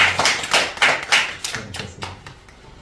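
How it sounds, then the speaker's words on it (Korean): Church congregation clapping in welcome at a tenth-anniversary Sunday service, a burst of many hands applauding close by, uneven and lively, then thinning and fading out. "우리 박수로 서로 환영하겠습니다"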